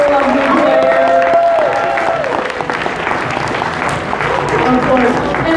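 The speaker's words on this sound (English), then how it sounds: "Round of applause for all of our lovely players." Audience at a cosplay event applauds and cheers for the contestants, a loud, dense wash of clapping with whoops and crowd voices mixed in throughout.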